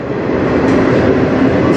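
A CN freight train pulled by four locomotives rumbles by at close range on the Strathroy Subdivision near Sarnia, Ontario, its cars producing a steady, loud roar and faint wheel clatter, without voices.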